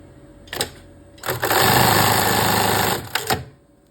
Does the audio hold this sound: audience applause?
no